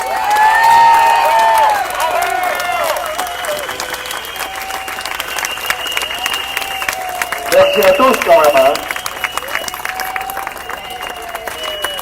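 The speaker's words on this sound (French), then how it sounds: "Et beaucoup d'applaudissements pour nos soignants quand même" Crowd at a street protest in Lyon applauding healthcare workers, with a loud burst of clapping and cheering at the start that fades into ongoing scattered applause, while someone speaks over it and a few shouts rise near the end.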